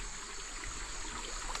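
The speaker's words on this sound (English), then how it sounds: "there's the Little Missouri River." The Little Missouri River flows along a backpacking trail, a steady, broad rushing and trickling wash of water with no voices.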